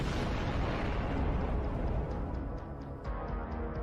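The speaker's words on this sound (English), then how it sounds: "The explosion was so massive that it tore the tank into pieces" A massive explosion tears a T-90 tank apart, producing a loud, continuous rumbling roar that fills the whole stretch, slowly easing toward the end, with no voices.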